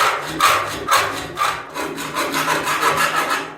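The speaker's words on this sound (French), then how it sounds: "Maintenant, je vais mettre un coup de pointe à tracer." A steel scriber is drawn across sheet metal during 4x4 Renault R2087 bodywork repair, giving a series of close, rhythmic scratching strokes about every half second.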